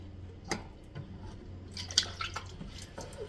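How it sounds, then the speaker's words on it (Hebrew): Liquid poured through a funnel from two opened bottles while making ice pops at home, a soft irregular trickle with a few drips and small splashes, fairly close and quiet. "עכשיו אנחנו הולכים לשים את המשפך ולשפוך."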